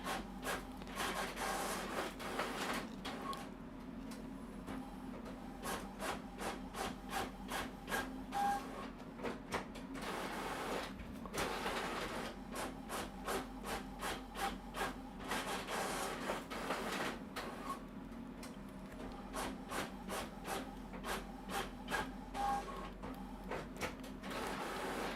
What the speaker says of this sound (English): So enjoy these free ASMR printer noises.